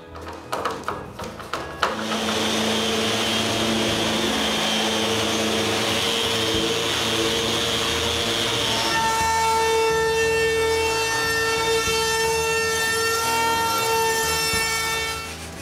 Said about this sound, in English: And with this last sanding